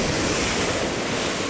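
Sea waves crash and surge against rocks on the Madeira coast, a loud, continuous roar of broken surf with wind across the microphone and no pauses.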